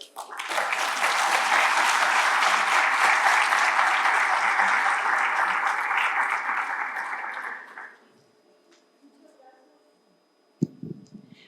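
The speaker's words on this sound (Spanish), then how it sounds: "Recibámosle con un fuerte aplauso" Sustained audience applause at a university lecture welcoming a speaker, a dense, loud wash of clapping for about seven seconds that fades out, followed by a short quiet stretch and a faint knock.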